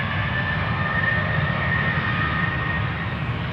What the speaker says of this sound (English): Lined up right now is KLM flight 1621, 737-900 to Milan.